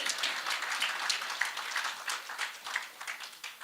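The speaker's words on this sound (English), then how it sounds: "So you should clap for us." Audience applause at a launch event on drought action in Kenya, a steady wash of many hands clapping at moderate distance for the whole stretch, with no talk over it.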